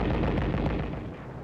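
Mortar and 155 mm artillery fire from a 1945 war film of the battle at Angaur, a dense, continuous roar of booming blasts with no pauses, loud throughout and easing slightly toward the end.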